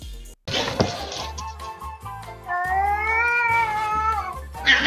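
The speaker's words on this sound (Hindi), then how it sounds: "अब इन बिल्लियों की लड़ाई ने तो मेरा मूड बना दिया।" Cats fighting, with loud drawn-out caterwauling yowls and meows rising and falling, mixed with sharp thumps and scuffles, close and alone without speech.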